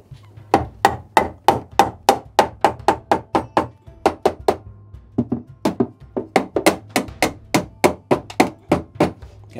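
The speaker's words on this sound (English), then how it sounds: "I'm gonna get the dead weight and see if I can hammer that in place" Heavy dead weight pounding a wooden piece into place during an engine-removal project, delivering about two dozen loud, sharp thwacks in a steady rhythm with one brief pause midway.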